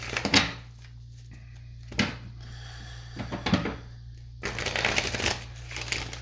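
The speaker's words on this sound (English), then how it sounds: "I'm just shuffling here." Playing cards are shuffled in several brisk riffles separated by pauses, close up over a low background hum.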